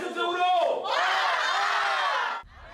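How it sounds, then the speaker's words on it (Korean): A group of children shout and cheer together at a weekday morning Bible school in a church, a loud sustained collective yell lasting about two seconds before cutting off. "평일 오전 교회가 아이들의 함성 소리로 떠들썩합니다."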